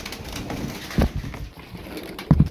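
Tumbler pigeons in a loft, a couple of short low coos rising out of quiet background rustle, near and fairly clear, with no voices.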